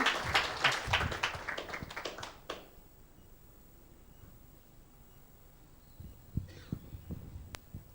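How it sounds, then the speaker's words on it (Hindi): A church congregation bursts into loud, dense clapping for about two seconds, then it cuts off into a quiet room with a few faint knocks. "ऐसे गुरु के लिए एक जोरदार ताली यीशु के नाम से।"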